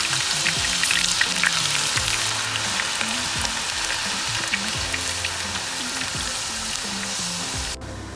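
Steady, dense sizzling of potatoes deep frying in hot oil, close and continuous, with a faint clatter near the end.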